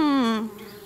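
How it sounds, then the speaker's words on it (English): Bees buzzing angrily around a hive in a treehouse in the adventure game Anna's Quest: a loud, steady buzz in the foreground that wavers and glides slightly downward before easing off. "Darn bees, trying to move into our treehouse."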